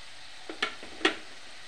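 Chicken chili with red chili and tomato sauce gets stirred in a pan: a faint sizzle underneath a few quick scraping strokes of a spatula, the last one loudest, heard close up.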